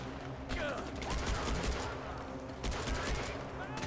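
Rapid automatic gunfire in Far Cry 4, sustained bursts of shots at moderate loudness over game ambience, with someone talking intermittently.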